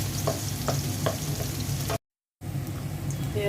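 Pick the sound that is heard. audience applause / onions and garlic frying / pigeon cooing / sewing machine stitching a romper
onions and garlic frying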